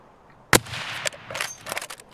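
One sharp, loud gunshot cracks out in Escape from Tarkov, followed by fainter scattered impacts and movement noise, with no talk.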